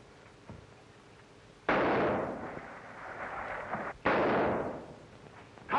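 Gunfire in a 1935 waterfront crime film, two loud sharp bursts a couple of seconds apart, each trailing off into a rough, noisy decay over a faint background.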